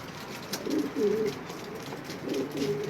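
Homing pigeons kept by a bird breeder coo in low, throaty, rolling calls, two or three nearby phrases over a faint background murmur.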